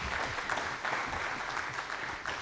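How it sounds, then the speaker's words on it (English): At a USAID Kenya Investment Mechanism closeout celebration, an audience gives Lauren a warm round of applause, a soft, even patter of many hands clapping, somewhat distant and steady from start to finish. "Let's give Lauren a warm round of applause."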